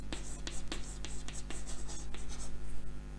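A pen writes chemistry notes on paper, giving a close, quiet run of quick scratchy strokes and taps in an uneven rhythm over a low steady hum.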